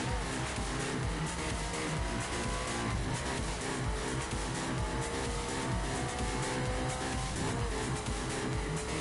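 Car driving in The Crew racing video game, a steady, dense engine drone with road and wind noise running loud and unbroken throughout, no talk.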